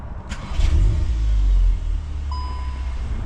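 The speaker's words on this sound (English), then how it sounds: "I'll just start it up for you." A 2025 Volkswagen Golf R engine starts up with a quick crank and a deep rising rumble that settles into a low, steady idle, close by, with a faint electronic chime over it.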